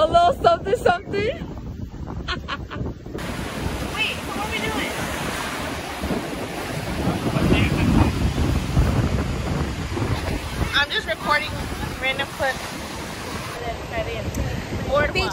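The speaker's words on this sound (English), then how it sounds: "We are going to walk on the beach shortly." Ocean waves rolling onto a beach at night in Cancun: a steady wash of surf swelling and receding under heavy wind buffeting, with people talking nearby at the start and again later.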